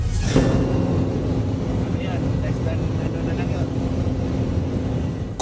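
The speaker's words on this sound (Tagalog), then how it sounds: "ang delikadong pagmaniobra ng helicopter ng Chinese Navy sa eroplano ng Bureau of Fisheries and Aquatic Resources o BFAR habang nasa himpapawid ng Scarborough" Aircraft noise heard aboard a Bureau of Fisheries and Aquatic Resources airplane as a Chinese Navy helicopter maneuvers nearby over Scarborough: a loud, steady roar of engines and rotor throughout, with people talking over it.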